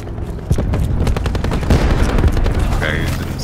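Loud, dense gunfire in Call of Duty Black Ops 4, rapid automatic bursts blending with heavier booming shots across the whole stretch, close and continuous, with a voice talking over it.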